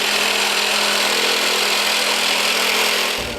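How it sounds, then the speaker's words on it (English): A drill bores into an aluminum sculpture part, a loud continuous high-pitched grinding whine held steadily for a few seconds before easing off at the end, with no voices. "We're going to drill holes in it"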